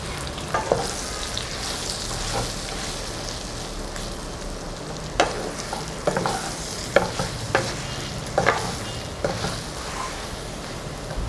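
Okra stuffed with spice powder roasting slowly in a pan, a steady soft sizzle with scattered sharp clicks and scrapes as it is stirred, close and alone.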